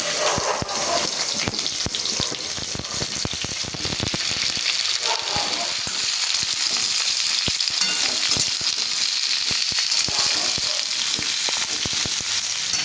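Cut mixed vegetables hit hot oil tempered with cumin seeds, giving a loud, steady sizzle and crackle that runs the whole time, with occasional stirring clatter.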